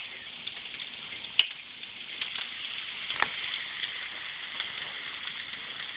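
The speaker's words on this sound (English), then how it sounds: "Now you can hear the Pop Rock." Tropical Punch Pop Rocks crackle and snap in bathwater inside a dissolving bath fizzy, a steady fizzy hiss dotted with sharp little pops, one louder crack standing out.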